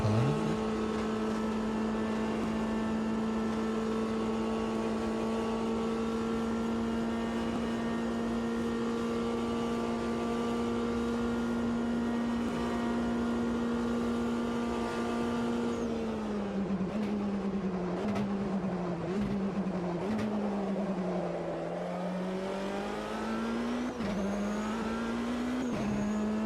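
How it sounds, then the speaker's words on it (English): Race car at Daytona in Automobilista 2, engine holding a loud steady high-pitched drone, then pitch dipping and rising with gear shifts and throttle changes, alone without voices. "This car has a very unique sound"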